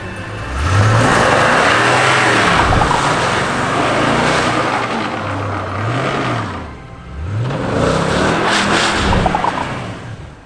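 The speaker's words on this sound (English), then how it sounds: "let's go ahead and get ready to pull out of our parking spot here and just see how effective this works in two-wheel drive" A car in two-wheel drive tries to pull out of a parking spot on a snowy winter road, its engine revving up and down repeatedly in rising and falling surges, loud and close with no voices.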